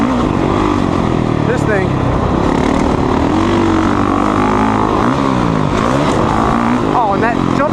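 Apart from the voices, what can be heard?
Honda CRF450R dirt bike engine while riding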